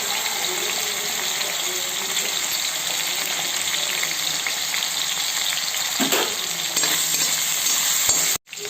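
Brinjal sautéing in a pan gives a loud, continuous dense sizzle with faint stirring scrapes and no voices.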